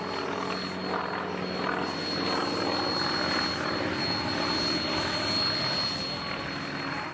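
Propeller aircraft engine roaring steadily during an air show flight at Hill Air Show 2024, a sustained loud drone with broad rumble, holding constant for several seconds with no talk.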